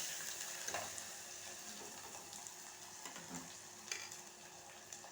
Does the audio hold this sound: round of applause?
no